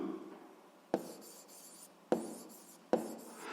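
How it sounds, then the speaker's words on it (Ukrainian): A pen writes an answer by hand on paper in a quiet room, with three distinct taps and scratchy strokes spaced about a second apart, close and without talk. "І записуємо тоді відповідь"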